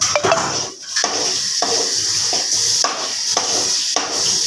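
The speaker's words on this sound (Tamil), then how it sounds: "நல்லா கிண்டுறோமா நல்லா வேகிற வரைக்கும் நல்லா கிண்டணும்" A spoon or spatula stirs egg curry in a pan, scraping and clinking against the metal in steady repeated strokes over a constant loud sizzling hiss, close up and with no talking.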